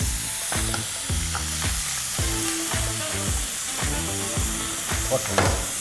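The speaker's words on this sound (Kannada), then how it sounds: "ಎರಡು ಗಡ್ಡೆ ಬರುತ್ತಲ್ಲ ಎರಡು ಗಂಟೆ ಬೆಳ್ಳುಳ್ಳಿ ಎರಡು ಪೂರ್ತಿಯಾದಂಥ ದಪ್ಪವಾದಂಥ ಈರುಳ್ಳಿ ಒಂದು ಹದಿನೈದು ಮೆಣಸಿನ್ಕಾಯಿ ಎಲ್ಲವನ್ನೂ ಕೂಡ ಧನಿಯಾ ಜೊತೆಗೆ ಹುರ್ಕೊಳ್ತಾ ಇದ್ದೀವಿ" Garlic, thick onions and green chillies frying with coriander for mutton pulao. A steady hiss of oil runs under rhythmic, ringing scrapes against the vessel, about two each second, close and fairly loud.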